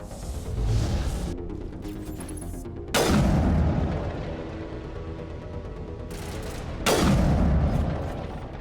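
Two heavy sniper rifle shots in the sci-fi shooter Mass Effect, each a loud booming crack around the three- and seven-second marks with a rolling tail, over a busy background of combat noise.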